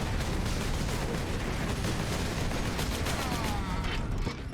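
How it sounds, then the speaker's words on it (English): Dense, roaring battle noise from the Warhammer 40,000: Space Marine video game, with rockets launched and bursting among heavy gunfire, a loud and continuous wash that eases slightly at the very end. "I need to find the big shooter that's launching all those rockets"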